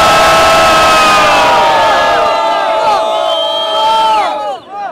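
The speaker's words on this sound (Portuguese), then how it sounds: "Só quem gostou do Johnny, faz barulho aí, Botafogo" Crowd at a rap battle in Botafogo cheering, whooping and shouting loudly and close, a dense roar of many voices that swells and then tapers off near the end.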